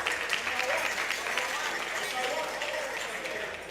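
Dense applause fills the room at a gas-industry student competition grand finale, a continuous even roar of many hands clapping from start to finish, with no single voice standing out.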